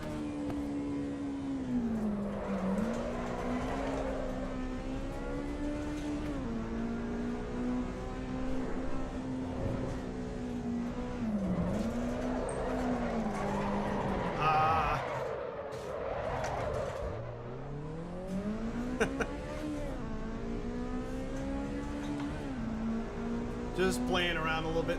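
Engine and tire noise from a car in the AC EVO racing game, sliding with the handbrake: a sustained engine drone whose pitch swoops up and down with the drifts, with intermittent tire scrubbing throughout.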